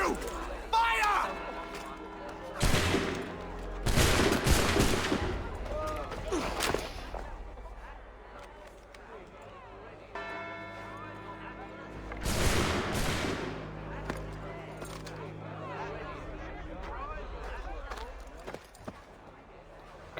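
Musket volley gunfire erupts in the Assassin's Creed III video game, with two loud broadband bursts of shots a few seconds apart, set among shouting voices and battle commotion.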